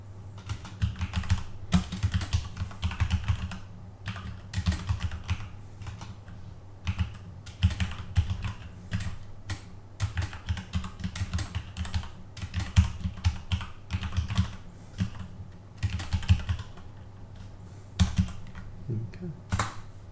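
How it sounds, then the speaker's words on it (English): Typing on a computer keyboard, entering commands into a package manager console, gives steady close clicking with irregular bursts and brief pauses throughout, without talk. "type the following commands"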